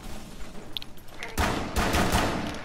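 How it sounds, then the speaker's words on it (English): Pistol gunfire in the Rainbow Six video game, a few sharp close shots followed by a dense burst of rapid reports with ringing tails, loud and alone. "That's a pistol."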